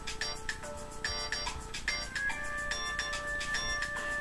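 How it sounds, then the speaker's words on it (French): A mobile phone rings with a bright, repeating electronic melody, loud and close, its phrases cycling steadily for several seconds with no voices over it. "Ça c'est mon téléphone."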